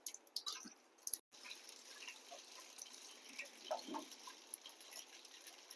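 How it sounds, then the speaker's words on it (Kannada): Mustard seeds splutter in hot oil for an evening snack, giving faint, scattered pops and crackles with a sizzling background. "ನೋಡಿ ಸಾಸಿವೆ ಹಾಕ್ತಿದ್ದಾರೆ."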